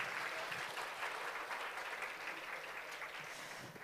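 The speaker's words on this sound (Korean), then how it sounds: "윤종수 위원장님께도 여러분 큰 박수 한번 부탁드리겠습니다." An audience claps at a session of the 2022 Jeju international environmental forum, a faint, distant, steady patter of many hands lasting about four seconds without voices.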